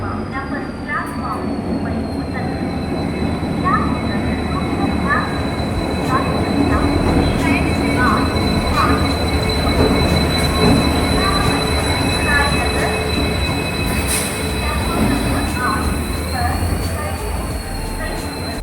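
Visakhapatnam to Shirdi train running with steady loud rumble of rail cars, wheels squealing in high drawn-out tones throughout, heard from on board with people talking in the background.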